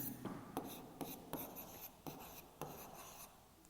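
A pen or chalk writes out a math answer in a class 7 triangle lesson, giving soft scratchy strokes in short repeated bursts, close but quiet, with no voice over them.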